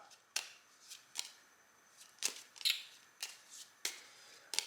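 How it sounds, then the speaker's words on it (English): A witness deck of cards for a courtroom-themed board game is shuffled by hand, producing a series of crisp riffling bursts at irregular intervals, close and moderately quiet with no voices. "shuffle that up."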